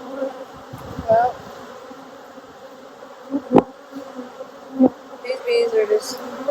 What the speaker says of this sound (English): these bees are just walking around down here